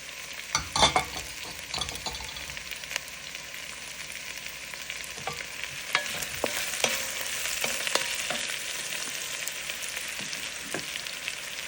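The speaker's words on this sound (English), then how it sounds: "now I'm going to add the onions" Onions for a Kerala-style duck roast sauté in a pan with a soft, steady sizzle, punctuated by close, clattering stirs from a spoon, louder at the start and then settling into even frying.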